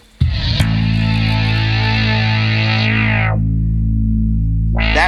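Bass synth tone through a Boss bass synth pedal, a thick sustained note with a square-wave edge that rings for about three seconds and cuts off sharply, then starts again.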